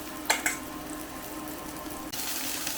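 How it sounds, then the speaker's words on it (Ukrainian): Onion and eggplant sizzle in a hot frying pan with a steady close hiss, a couple of brief clatters near the start and the frying growing brighter toward the end. "Цибулька вже майже підсмажилася"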